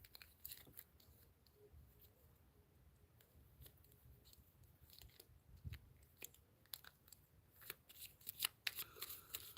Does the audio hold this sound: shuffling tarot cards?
yes